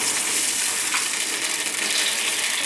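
Lotus root and pumpkin stir-fried in a wok with tomato ketchup and vegetarian oyster sauce just after water is added, giving a steady, loud bubbling sizzle that runs continuously with no talk.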